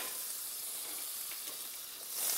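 A teaspoon of butter sizzles in a hot pan set for browning lamb chops, giving a steady, close, even hiss that swells slightly at the very end, with no voices.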